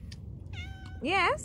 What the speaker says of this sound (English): Oh, she's just such a petty cat.